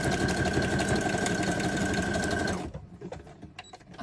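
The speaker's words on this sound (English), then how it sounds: "I want to do some stitching before this goes on the back" A sewing machine stitches a craft embellishment, whirring loudly and steadily for about two and a half seconds before stopping, followed by soft handling noises.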